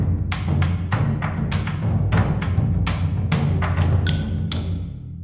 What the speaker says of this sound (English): we have this thing called the Lion's Drum Ensemble.